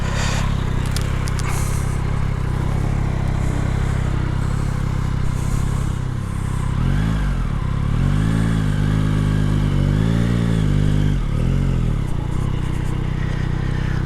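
A motorcycle, lent by a workshop and compared against a BMW GS, runs loud and close with a rough steady idle, then revs up and down in rising and falling sweeps through the middle before settling again.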